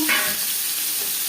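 Pointed gourd (potol) frying in the oil left from frying paneer, a steady close hiss of sizzling across the whole short stretch with a brief louder crackle at the start.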